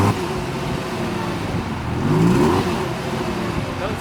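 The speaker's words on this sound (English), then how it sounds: "we're gonna go ahead and start this car up so we can go for a drive." Lamborghini Gallardo engine, already warm, running at a fairly quiet idle then rising in a brief rev around the middle before settling, a steady mid-pitched hum with no talking.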